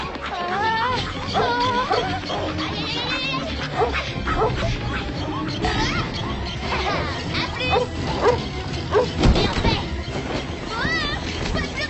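A small cartoon dog yips, whimpers and barks excitedly in quick bursts in an animated film, with voices talking over it throughout.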